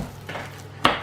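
Chopped jarred jalapeno slices being mixed into sausage roll filling with a spoon in a bowl, a soft scrape followed by one sharp close clink of the spoon against the bowl.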